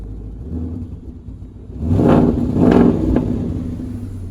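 An SRT car at an auto auction lets out a deep engine rumble that swells up suddenly after a quiet start, surging twice in throaty revs before settling to a steady idle growl.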